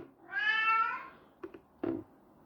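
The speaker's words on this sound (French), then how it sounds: "Donc désolé pour le chat." A cat meows once with a long drawn-out call, followed by a couple of short, quieter chirps and a second brief meow, close by in an otherwise quiet room during a collectors' fair recording.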